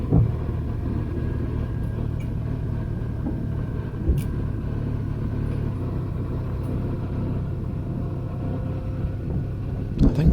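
A Honda VFR 1200X DCT motorcycle rides along a narrow country road in Perthshire, its engine a steady low rumble with constant wind noise, continuous and fairly loud, with no talking.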